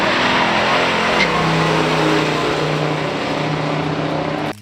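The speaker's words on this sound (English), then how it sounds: "The 1970 Buick GSX Stage 1." A 1970 Buick GSX Stage 1 muscle car engine roars loud and close, revving with a shifting pitch before cutting off sharply at the end.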